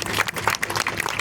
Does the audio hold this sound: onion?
no